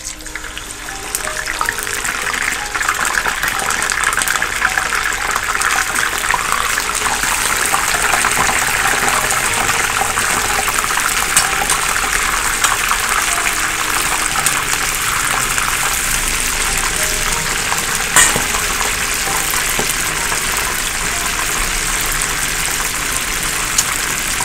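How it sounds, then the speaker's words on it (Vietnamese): Chicken pieces frying in hot oil, a loud, dense, continuous sizzle and crackle that holds steady throughout with no talking. "nóng mình để gà vô mình chiên"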